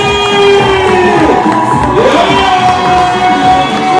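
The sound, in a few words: audience applause and cheering at graduation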